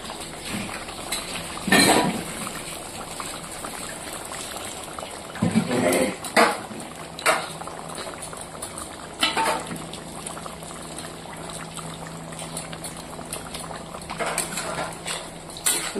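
Fish pieces added to a bubbling fish curry in a pot, a low simmering burble with several loud clanks of a spoon against the vessel and splashy bursts spread throughout.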